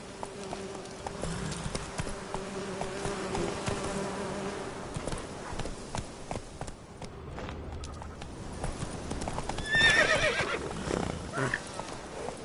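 A horse in the Witcher 3 video game trots with steady clip-clop hoofbeats and a neigh near the end, under light background ambience and a voice urging it on.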